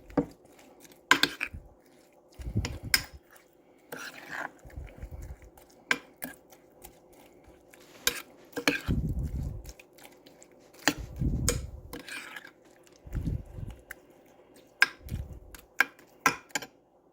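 A spoon clinks and scrapes against a bowl while oatmeal, brown sugar and flour are mixed, sounding as irregular sharp taps and short scraping bursts over a quiet background, fairly close and with no talk.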